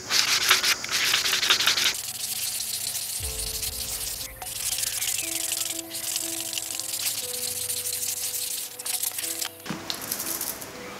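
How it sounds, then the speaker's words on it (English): A horn is being sanded down to make a medieval-style drinking horn, giving loud, continuous abrasive rasping with brief shifts in tone as the grinding pressure changes, heard alone without speech. "you'll have to change out whatever sanding mechanism you're using quite regularly"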